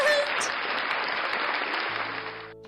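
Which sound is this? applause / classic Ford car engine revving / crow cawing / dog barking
applause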